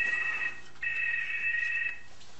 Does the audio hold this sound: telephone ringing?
yes